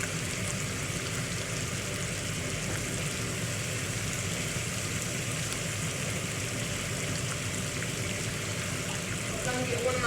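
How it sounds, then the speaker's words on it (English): Celery rinsed under a running kitchen tap, a steady broadband rush of flowing water lasting throughout with no pauses, close and fairly loud, with no talking over it. "I like to rinse my celery off after"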